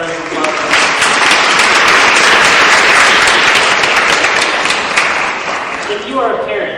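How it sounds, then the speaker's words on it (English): A large crowd applauds enthusiastically, dense clapping swelling and holding steady before tapering off slightly at the end. "Let's have a round of applause."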